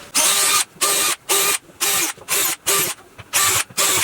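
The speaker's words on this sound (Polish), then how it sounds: "Przewiercę teraz na wylot." Power drill boring a hole right through a part for a DIY hobby paint-spray extraction booth, running in about eight short bursts of whirring with brief pauses between, loud and close, no talk.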